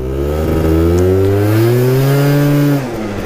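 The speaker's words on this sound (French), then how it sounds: "Une petite accélération quand même, a fait plaisir." A motorbike on a night ride accelerates hard, its engine note climbing steadily in pitch as it revs up close and loud, then dropping off near the end; no voices.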